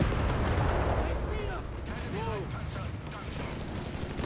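Chaffee light tank blowing up into a fireball in Company of Heroes 3, a deep rumbling blast with crackling battle din around it, heard under a commentator's talk.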